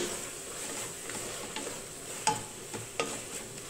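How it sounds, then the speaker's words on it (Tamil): Tomatoes sauté in a pan for a butter beans and mutton curry, a soft steady sizzle with a few faint scrapes and taps of stirring, quiet and close. "இப்போ பாருங்க, தக்காளியும் நல்லா வதங்கிடுச்சு."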